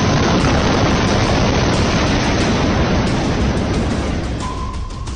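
Explosion in Beirut: a loud, sustained roar of rumbling blast noise fills the whole stretch and eases slightly toward the end, with no voices.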